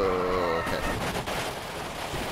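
In Stock Car Extreme, a Brazilian V8 stock car at Interlagos smashes into a barrier, a harsh broadband crunch and scraping rumble cutting off the engine note and fading into rough noise.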